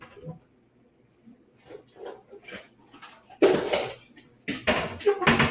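Dishes and bowls clink and knock on a counter while a sugar bowl is swapped during carrot cake baking, with a few soft sounds early on and then a run of sharp ceramic clatters close by.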